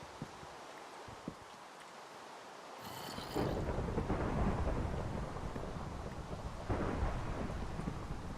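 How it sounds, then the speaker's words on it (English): Heavy rain pours in the Minecraft Better than Wolves mod, and a loud thunderclap breaks in about three seconds in. The downpour then keeps hissing thickly behind the rumble, with no voices. "Except it can't actually burn anything down because it's raining super hard."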